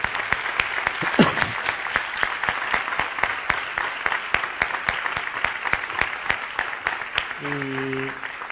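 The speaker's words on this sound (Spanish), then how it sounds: "Yo creo que se merece un aplauso" An audience applauds two doctors at a talk, giving steady, evenly spaced claps that carry on for several seconds at moderate distance, with a brief voice briefly heard underneath.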